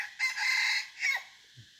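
A red junglefowl rooster gives a crow in the forest, a rising burst followed by a shorter trailing call, rather faint and distant with quiet surroundings.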